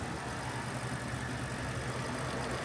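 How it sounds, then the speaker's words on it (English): Car engine idling and revving lightly, heard from underneath the vehicle near an exhaust flange leak, with a steady low rumble and faint puffing throughout, no talking. "I still hear an exhaust leak, so I got under the car and I'm having my girlfriend rev it up a little bit."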